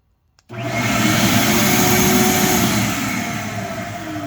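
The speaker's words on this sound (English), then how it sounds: "If I turn on my vacuum, it's going to go off." A vacuum cleaner switches on abruptly by remote control and runs with a loud, steady whooshing roar and motor whine, close by.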